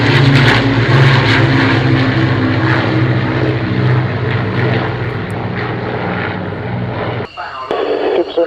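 Propeller engines of an Avro Lancaster bomber drone on the taxiway, a loud, throbbing multi-engine rumble with steady low harmonics that cuts off abruptly near the end, followed by a brief quieter rush; talk is faintly present.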